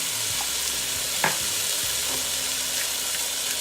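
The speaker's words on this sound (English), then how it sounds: "throw a little olive oil in there, drop in your pepper, a little garlic powder" Bell pepper frying in olive oil with garlic powder inside a Ninja Foodi, a steady close hiss of sizzling with a light stir or clink partway through.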